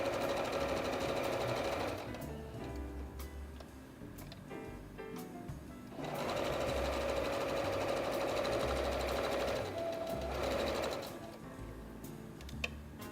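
An electric sewing machine stitches cloth doll trousers in rapid, steady bursts of mechanical whirring with short pauses between runs, close and clear with no talking.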